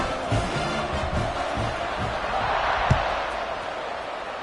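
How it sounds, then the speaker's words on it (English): A constant, loud crowd buzzes through an American football stadium in a video game after a score, with a few low thuds and muffled talk underneath the steady roar. "this crowd is buzzing after that last score"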